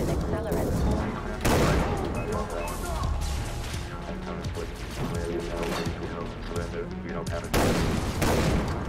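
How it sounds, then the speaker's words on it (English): Gunfire in the video game Far Cry 3: Blood Dragon rattles in dense bursts and heavy blasts, loud and continuous, mixed with game sound effects. "Alert! Lieutenant Brown is taking fire"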